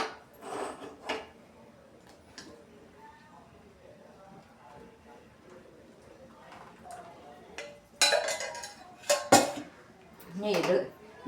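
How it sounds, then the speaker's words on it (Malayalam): Falooda being put into small serving dishes, with clinks of a spoon and dishes set down, mostly a few sharp knocks near the end amid quiet background. "ഇനി ഇത് ഈ 2 പാത്രങ്ങളിലും ഇട്ട് കൊടുക്കും."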